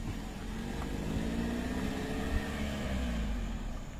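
A car engine runs steadily as the vehicle creeps forward at Jabal Magnet in Pagaralam, a continuous low idle drone with a faint shifting tone, close by and without voices.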